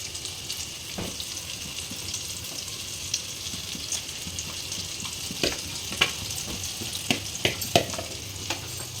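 An egg omelette sizzles and fries in a pan, a steady close crackle with occasional stirring scrapes and small pops, and no voices.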